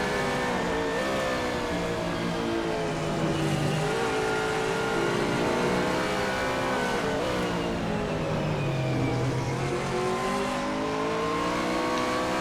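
A big Aston Martin race car engine screams around Virginia International Raceway in a racing game, a loud steady whine rising and falling through gear changes and corners, with faint tire squeal and no pause.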